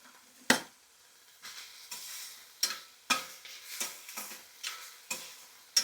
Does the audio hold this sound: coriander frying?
yes